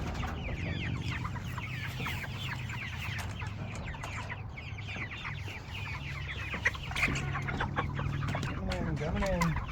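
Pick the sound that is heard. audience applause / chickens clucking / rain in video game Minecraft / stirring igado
chickens clucking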